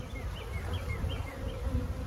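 Honey bees buzzing at an open hive that was made from a split, a steady, fairly quiet hum with occasional higher passing drones of individual bees close by.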